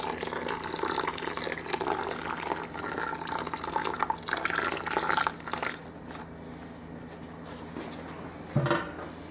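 Wort runs from a mash tun while sparging an India Pale Ale at 168 degrees: a steady, close splashing pour that thins out after about six seconds, with a brief clatter near the end.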